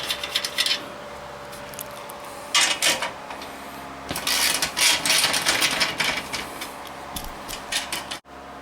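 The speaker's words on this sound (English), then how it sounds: "now we're going to unbolt the seat pan from the seat frame" Tools work on bolts holding a Nissan Murano seat pan to its seat frame, giving scattered bursts of clicks, metallic rattles and ratchet-like chatter at close range, with brief pauses between them.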